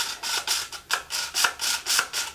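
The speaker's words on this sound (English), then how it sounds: "And then this is an herb grinder." A herb grinder is twisted back and forth, giving about eight steady, close rasping grinds in a regular rhythm.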